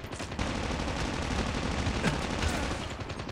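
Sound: gunfire from a weapon in the video game Call of Duty Mobile

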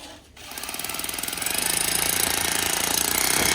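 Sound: hammer drill breaking concrete stairs

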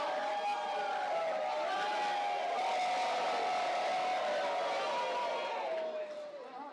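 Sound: wrestling crowd howling

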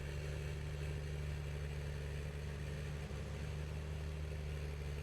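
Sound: tractor engine struggling uphill in Farming Simulator video game

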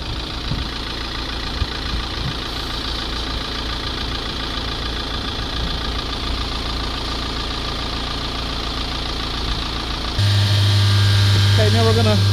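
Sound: Mercedes diesel engine running

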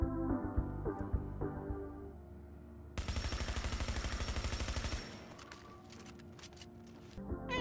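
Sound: Vector SMG gunfire in video game The Division

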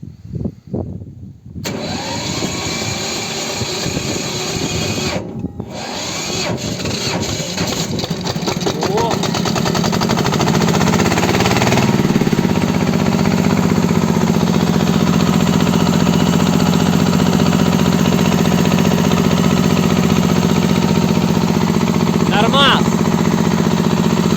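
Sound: Kentavr 160V walk-behind tractor engine running, warming up

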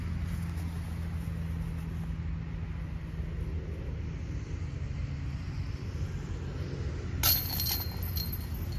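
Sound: disc golf putt tapped into the basket chains

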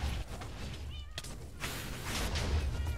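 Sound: cat meowing in modded Minecraft video game

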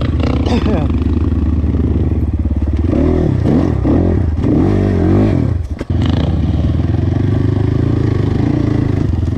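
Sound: 300cc enduro motorcycle engine revving

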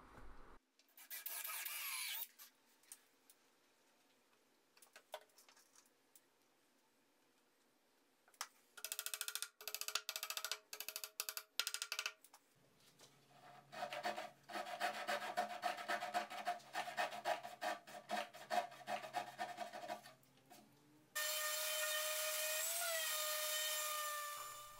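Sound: sanding a wooden serving tray

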